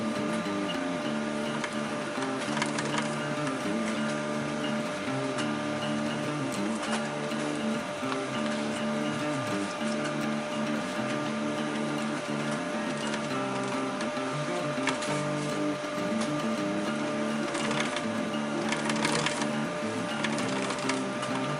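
Sewing machine stitching a chest pouch, a steady mechanical whir with rapid ticking rhythm running continuously and close, with no speech over it.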